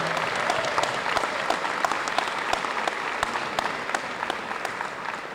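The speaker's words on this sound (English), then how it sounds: "Let's get another round of applause for all of the help and all the volunteers." A round of applause for volunteers from an audience at a high school varsity jacket night, steady crowd clapping with a few crisp claps standing out, even in loudness throughout.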